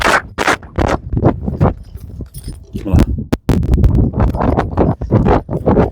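A ridden horse's hooves clip-clop in quick uneven steps on hard ground, loud and near, with scrapes and brief rustles between the strikes.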